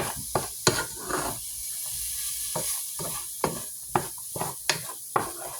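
Vegetables for vegan ramen cook in a pot, with a steady sizzle under repeated sharp stirring scrapes and clinks of a utensil against the pot, close and moderately loud, no talking.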